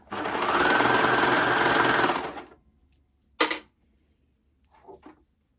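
A sewing machine stitches a stretched band onto a knit Rockford Raglan top by Love Notions, whirring steadily for about two seconds before slowing to a stop. A sharp clack follows, then faint rustling.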